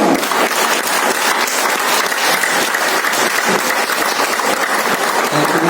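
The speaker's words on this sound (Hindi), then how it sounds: "ताली नहीं तो मीटिंग नहीं शुरू होगी," A large audience at a motivational speech event claps in steady, dense applause that fills the room at a loud, constant level throughout, with no voice over it.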